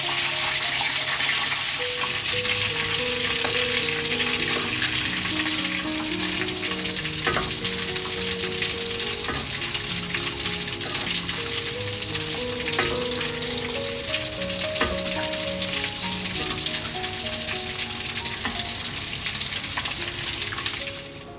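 Loud, steady sizzling and crackling of pork belly deep frying in hot oil for lechon kawali, continuous throughout, with soft music playing underneath.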